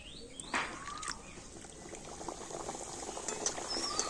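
A batter-filled bowl mould is lowered into hot frying oil, giving a steady, close bubbling sizzle throughout with a couple of brief clinks near the start.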